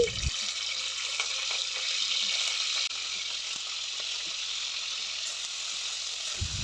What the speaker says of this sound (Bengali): আগে থেকে ধুয়ে নেওয়া মাংসগুলোকে এই ঘিয়ের সাহায্যে ভেজে নিচ্ছি।